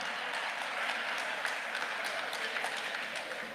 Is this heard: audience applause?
yes